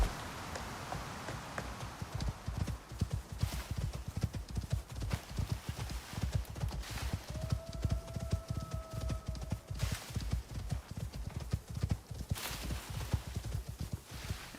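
Horse hooves clip-clopping at a steady walking pace in the Icarus video game, loud and close, with a brief whinny midway and no talking.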